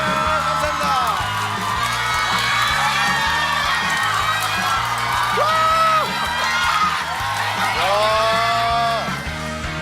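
A crowd at an economics lecture concert cheers and whoops to welcome lecturer Choi Jin-gi, with rising shouted whoops over steady loud crowd noise and a pulsing low rhythmic backing throughout.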